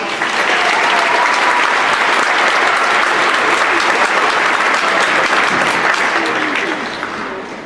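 A school crowd at a junior high awards night claps for teachers and staff in a steady, dense round of applause that fills the room from start to finish and eases off slightly at the end.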